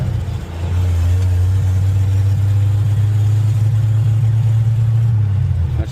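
A car engine in a car headed for scrap drones steadily and loudly nearby for several seconds while it is driven through its gears, with a rising, held engine tone.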